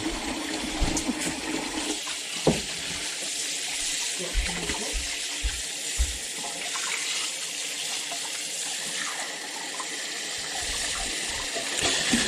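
Cold tap water runs steadily into a bottle, with a continuous gushing splash and a few clunks and knocks along the way, close and fairly loud.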